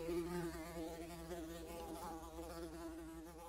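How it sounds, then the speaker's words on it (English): A close, steady insect buzz drones without a break, wavering slightly in pitch like wasps hovering nearby. "But the wasps were just as bad as"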